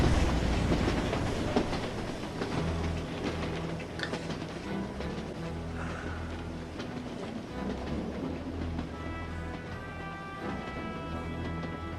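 A train runs along rails with a steady rumble and rhythmic clickety-clack of the wheels, heard up close for the whole stretch with no speech over it.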